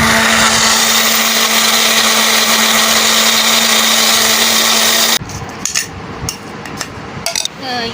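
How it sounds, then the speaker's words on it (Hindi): An electric grinder blends chopped mango pieces into a paste with a loud, steady motor whine that cuts off abruptly, followed by a few light clatters and knocks. "तो अब इसे हम ग्राइंड कर लेंगे।"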